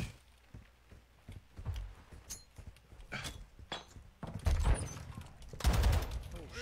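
Gunfire in a Call of Duty match, bursts of rapid shots and thuds coming in clusters, louder toward the end, with occasional voice nearby.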